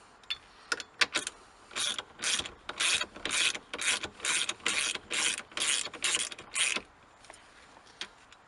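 A steering wheel's retaining nut is threaded back onto the column and tightened by hand, heard as a close series of about a dozen regular raspy ratcheting bursts in a steady rhythm, with a few scattered clicks before and after.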